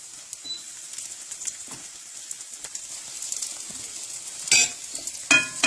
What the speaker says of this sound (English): gently lift the sides to see how well the ends are being cooked with the oil.